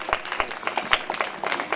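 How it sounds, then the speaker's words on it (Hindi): A church congregation at a Christian wedding sermon claps together, a brief burst of dense, close applause with uneven hand claps throughout. "इनकी जिंदगियों के लिए ताली बजाएं।"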